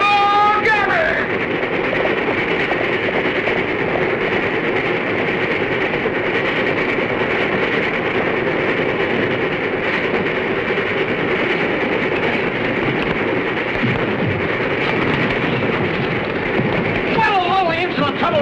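Steam train running on its tracks in a 1939 western film: a continuous rumbling, rattling roar with a rhythmic wheel clatter, loud and steady throughout, with brief whistle-like tones at the start and end.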